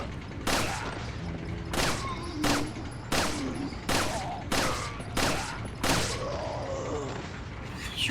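Gunshots ring out in Resident Evil 4, roughly nine loud, sharp cracks fired singly at uneven intervals, each trailing off in a brief echo.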